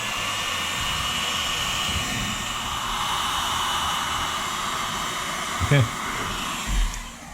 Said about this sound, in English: we're going to get the hair dryer, and we're going to heat this glue up